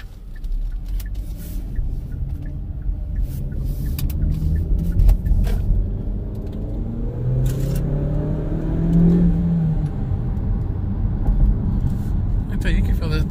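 A turbocharged car accelerates from the cabin, its engine note rising and swelling steadily under near-constant talking from the occupants, with road and wind rush filling the background.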